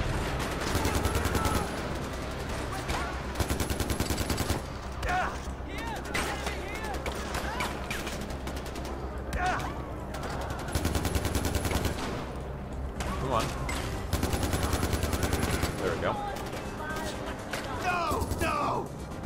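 Rapid gunfire from the Far Cry 4 video game, bursts of automatic and single shots crackling repeatedly throughout, layered over game sounds with a voice speaking at times.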